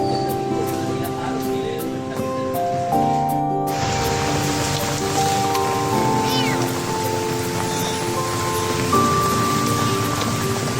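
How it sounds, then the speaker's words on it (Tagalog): Heavy rain from a typhoon pours down in a steady, dense roar, with tonal hum and a sharp change partway through, while a voice speaks briefly over it. "Lakas ng ulan."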